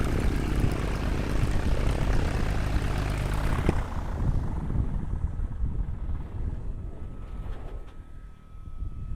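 An O-1 Bird Dog propeller aircraft engine drones loudly and steadily up close, then throttles down and fades to a lower rumble as it winds down.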